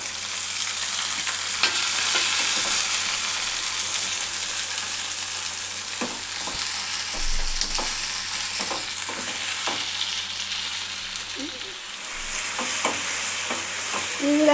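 Chopped tomato fries lightly in a pan for a chole masala curry while a spatula stirs it. A constant soft sizzle carries repeated sharp scrapes and taps against the pan.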